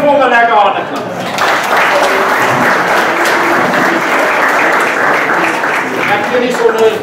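A crowd claps hands in sustained, dense applause at an outdoor Day of the Vow (Geloftedag) gathering at Blood River, a loud, even roar of clapping with a voice briefly heard at the start and end.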